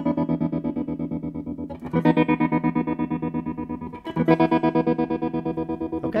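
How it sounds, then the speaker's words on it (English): Guitar signal chopped by a DC Pedals Tremola tap-tempo tremolo pedal set to a fast square wave, giving rapid staccato on-off pulses over sustained distorted chords, with a new strum near two and four seconds; loud and close, no talking. "you can get a really fast, syncopated, staccatic square wave sound out of this"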